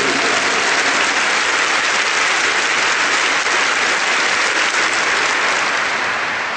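A church congregation gives the Lord a big hand during a priest's sermon, loud and dense applause sustained evenly throughout, easing a little near the end, with no talk over it.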